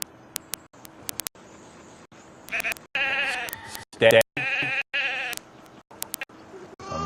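Sheep bleating in a sheep herding video game, several short bleats in bursts with gaps between, close and clear, mixed with a man's brief spoken remarks.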